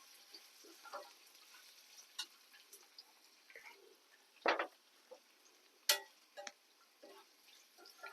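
Raw banana pieces frying in oil on high heat give a faint, steady sizzle with scattered ticks and sharp crackles. Two louder pops stand out among them.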